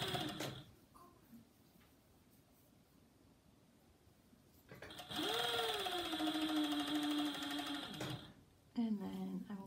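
A sewing machine runs steadily for a few seconds, stitching an underwear seam, with a rising whir as it speeds up and then stopping, then a short burst at the end, with quiet talk around it.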